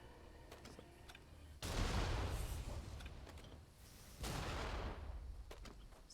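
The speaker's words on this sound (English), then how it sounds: "This is actually where they shoot the cannons." Cannons fire in the samurai action game Nioh 2, two heavy booming blasts a few seconds apart, each with a long rumbling decay over a quiet background.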